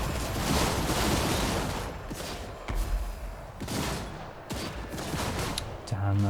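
Dwarf units and cannon fire in the Total War: Warhammer II battle game, with rolling volleys of gunfire and heavy booms crackling over a busy battlefield din, moderately loud and continuous.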